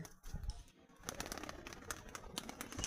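Pigeons coo faintly in a quiet setting near their nest, with soft intermittent calls and light scratchy movement over a few seconds.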